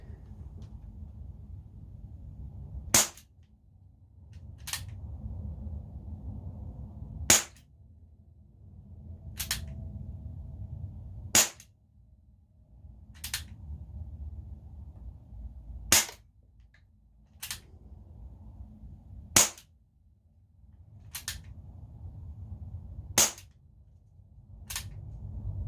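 A Winchester 4.5 Special CO2 8-shot pellet revolver fires a series of sharp, snappy pops at irregular intervals of a second or two over a low, steady background hum.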